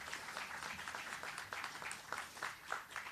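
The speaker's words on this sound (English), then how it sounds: "Another round of applause," Faint, distant audience applause at a public announcement event, a patter of many hands clapping steadily for a few seconds.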